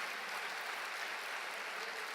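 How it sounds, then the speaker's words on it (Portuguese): Congregation applause at a Portuguese-language church service, a steady dense wash of clapping at moderate level, continuous and without a break. "Você pode aplaudir a Deus?"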